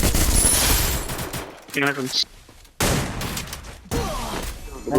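Gunfire from the Free Fire battle game during a tournament match, heard as dense bursts of rapid shots with brief gaps between volleys, loud and close, mixed with other game effects.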